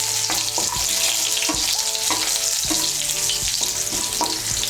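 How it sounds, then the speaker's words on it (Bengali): Crushed garlic cloves fry in hot oil in a pan, a steady close sizzle with repeated scraping stir strokes, no talk. "রসুনগুলোকে আমি থেতো করে নিয়েছি। রসুনটাকে একটু ভেজে নেব।"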